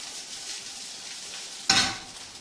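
Pelmeni dumplings frying in a pan give a soft continuous sizzle, then a sudden loud burst of hissing and clatter as they are tossed, fading back over the next half second; close, no talking.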